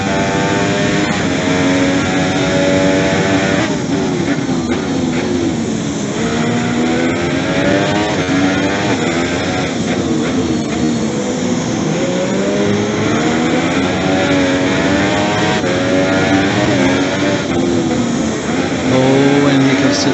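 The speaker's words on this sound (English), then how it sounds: "Zwoof is really pushing this Ferrari" A Ferrari race car engine in a racing video game at the Mexico circuit screams loud and continuous, its pitch rising and falling through gear changes, while a commentator talks over it.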